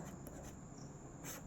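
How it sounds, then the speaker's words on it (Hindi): Faint pen or marker strokes scratch across a surface in a physics classroom lesson, a brief quiet run of light rubbing with no talk. "तो यहाँ पे हम लिखेंगे मीटर"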